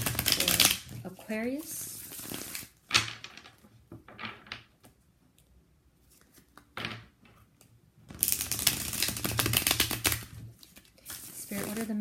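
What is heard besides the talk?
shuffling a deck of cards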